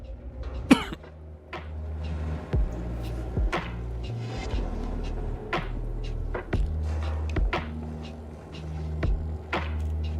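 A single abrupt cough sounds close to the microphone near the start, followed by a quiet room with scattered small clicks and knocks.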